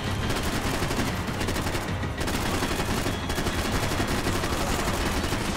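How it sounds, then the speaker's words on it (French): Rapid bursts of gunfire from the video game Max Payne 3 fill the whole stretch, dense and continuous shooting with a heavy rumbling background, loud throughout with no talk over it. "Faut que je tire dessus avant qu'elle arrive"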